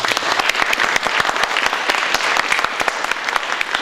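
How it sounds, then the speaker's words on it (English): Crowd at a local election candidates' forum applauds, a dense, even burst of many hands clapping loudly throughout the few seconds. "Will you give a round of applause to all of the candidates?"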